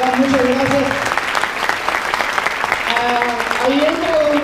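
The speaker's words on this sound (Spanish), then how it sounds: "un fuerte aplauso para ellos" Audience applause at a seminar, a dense steady wash of clapping filling the space, with a voice speaking or singing over it throughout.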